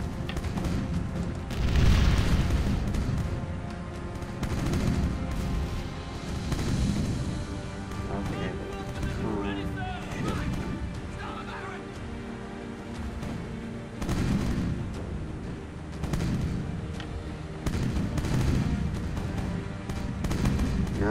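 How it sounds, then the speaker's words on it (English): Ship cannons in the video game Age of Pirates 2 fire as a series of deep booming blasts at irregular intervals, some loud and close, others further off, over a continuous layer of game sound. "Love the bloody cannons."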